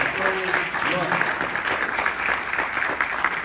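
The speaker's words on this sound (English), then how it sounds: "Let's give her another round of applause." An audience at a political endorsement event breaks into sustained applause, a dense, even wash of clapping with a voice speaking briefly at the start.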